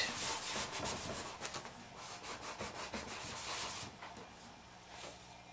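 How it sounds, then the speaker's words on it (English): Steady rasping of sandpaper rubbing an image off a chipboard surface, continuous close strokes with a rough, scratchy texture and no talking. "You can see how nicely that original image is just sanding right off"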